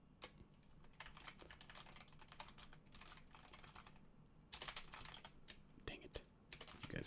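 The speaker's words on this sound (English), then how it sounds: "You guys are seeing my bad typing." Rapid clicking keystrokes on a computer keyboard rattle in uneven bursts, close and fairly quiet, with a brief pause midway before the typing resumes more loudly.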